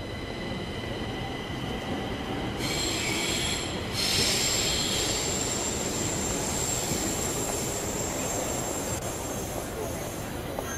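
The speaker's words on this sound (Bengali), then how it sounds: "শুধুমাত্র টার্মিনাল 3 এর মধ্যে আমরা একটা গেট থেকে অন্য গেটে যাব, তার জন্য আমাদেরকে একটা ট্রেনে করে যেতে হচ্ছে।" Airport inter-gate train running inside Singapore airport Terminal 3, a loud steady rumble of wheels on track with high metallic squeals and a continuous whine throughout.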